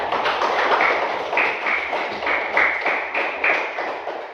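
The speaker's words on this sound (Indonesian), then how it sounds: "beri tepuk tangan untuk kelompok 3" A classroom group claps for group 3 after a lesson presentation, a brisk, fairly close burst of hand claps with a few rhythmic pulses, continuing without any talk.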